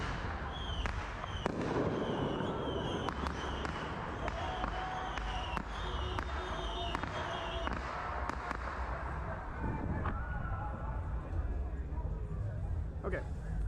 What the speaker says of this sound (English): It's a never-ending firework.